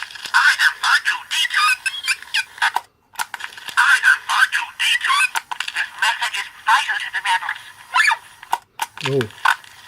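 Vintage Palitoy talking R2-D2 toy playing its recorded beeps and warbles, a busy run of chirpy electronic bursts with brief gaps and a falling whistle near the end.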